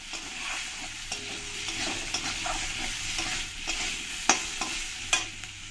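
Fried potatoes are stirred with salt and turmeric in a pan, making a steady scraping and stirring rasp over a soft, continuous sizzle, with a few sharper clicks of the spoon against the pan. Close and moderately loud.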